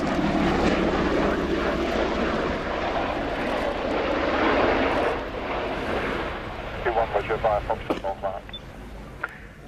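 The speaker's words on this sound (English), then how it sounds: "the final pass by the CV-22B Osprey from the 7th Special Operations Squadron of the US Air Force at RAF Mildenhall in Suffolk" A Bell-Boeing CV-22B Osprey tiltrotor of the US Air Force's 7th Special Operations Squadron makes a final flying display pass at an airshow, its loud, steady engine and rotor roar filling the air before easing, with rhythmic thumping toward the end.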